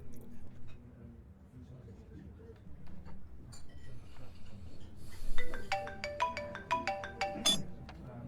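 A mobile phone rings during a meal, a bright repeating electronic melody that starts partway through and rises over soft ambient murmur and faint clinks, fairly close.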